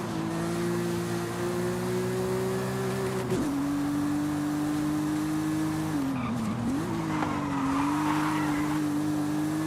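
A Porsche rally car in Forza Horizon 5 skids with a long, sustained tire squeal over a steady engine drone, the squeal wavering in pitch as the car slides, loud and continuous without talk.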